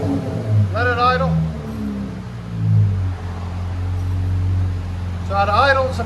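A 2013 Chrysler 300 V6 with a Flowmaster Super 10 dual exhaust idles steadily with a low, even rumble, close by, while people talk briefly over it at the start and end.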